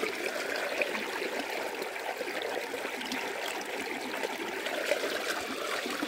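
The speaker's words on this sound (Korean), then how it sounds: "물소리 참 좋다" A mountain valley stream near a forest cabin flows steadily, a continuous soft rushing and trickling of water that stays even and fairly quiet throughout, with no voices.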